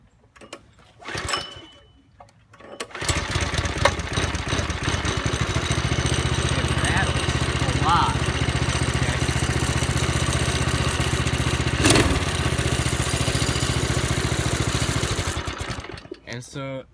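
A Baja mini bike with a Predator 212cc engine is pulled and started after some handling noise, then settles into a steady, loud, close idle with a rattly, clattering mechanical buzz that runs on for several seconds before shutting off.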